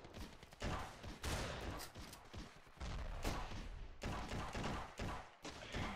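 Gunfire in the video game Ravenfield: dense, continuous bursts of rapid shots and rattling volleys, loud and close, with brief gaps between salvos and no clear talking.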